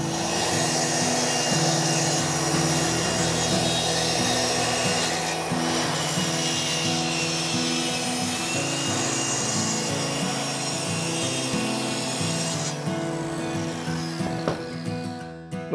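A track saw cuts three wood pieces down to length against adjustable stops, giving a loud, steady whining roar that runs almost continuously and tails off near the end, with no talking over it.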